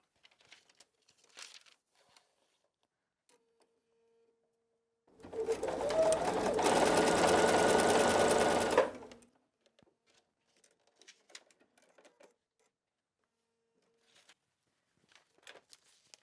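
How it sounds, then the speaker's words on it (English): A sewing machine stitches fabric pieces for a foundation paper pieced quilt block in one close, steady run of about four seconds, with quiet fabric and paper handling rustles before and after. "a few stitches above, on the line, sew straight off"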